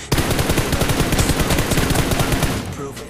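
Rapid automatic gunfire from the mobile shooter game PUBG Mobile, a loud continuous rattling burst of shots lasting a few seconds before cutting off.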